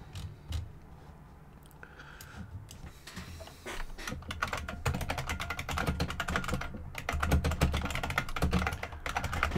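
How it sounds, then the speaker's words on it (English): Rapid typing on an old, clicky mechanical computer keyboard, close up, with sharp key strikes in irregular bursts over a low hum, growing busier toward the end. "You can probably hear me typing."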